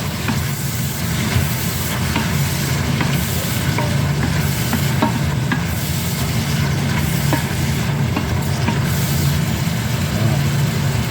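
Goat intestines sizzle and hiss steadily as they are stir-fried in a pan, the frying constant and close for the whole stretch, with occasional faint scrapes of stirring and no talking.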